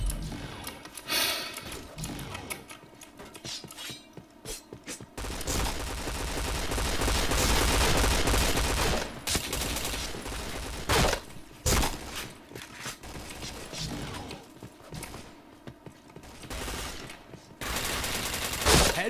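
Rapid gunfire bursts and explosions from the video game Point Blank, loud and dense with fusillades broken by short quiet gaps.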